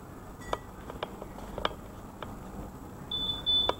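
Keyless remote of a Yamaha NMAX scooter giving a couple of short electronic beeps near the end, after a few faint clicks, alone in a quiet room.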